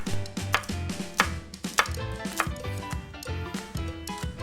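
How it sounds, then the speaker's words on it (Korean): Knife slicing chili peppers at an angle on a cutting board, a steady series of sharp, close chopping thuds in a regular rhythm with no speech over them. "일단 고명으로 쓸 건 살짝 어슷 썰어 줄게요"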